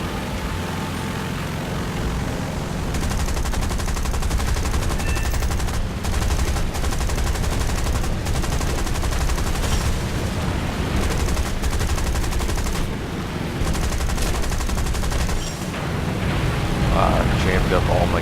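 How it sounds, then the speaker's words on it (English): Aircraft machine-gun fire in the combat flight game War Thunder, loud and continuous, with rapid bursts over engine drone throughout, and a voice talking intermittently. "Somebody else is shooting at him"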